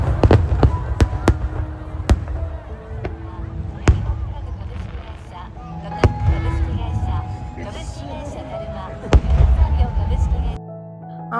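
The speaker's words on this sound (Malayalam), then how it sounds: "സമ്മറായ എല്ലായിടത്തും ഉണ്ടാവും ഈ ഫയർ വർക്ക്സ്." Fireworks at the Kariya Wansaka summer festival in Japan, with sharp bursts and booms at irregular intervals over a steady crowd murmur, fairly close and loud.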